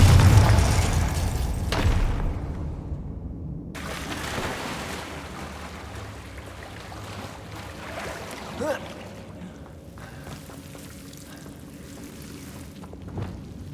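A Confringo spell blast from the game Hogwarts Legacy opens with a heavy boom that decays into rumbling ambience, followed by a softer thud midway and a faint pop near the end.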